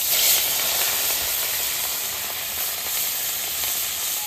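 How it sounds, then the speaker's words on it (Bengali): Katla fish frying in hot oil gives a steady, close, loud sizzling hiss that runs unbroken throughout, with no voices. "আমার তো মরলা মাছ ভাজা হয়ে গেছে, এখন কাতলা মাছও ভাজা হচ্ছে এই যে"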